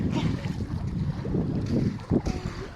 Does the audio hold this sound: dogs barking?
no